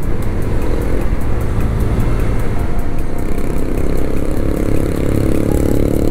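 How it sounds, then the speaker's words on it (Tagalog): A Honda Click 125 V3 scooter engine runs steadily while climbing a mountain road, a continuous close drone with wind noise and a faint regular ticking, and no voices. "Tapos napaka-smooth ng engine."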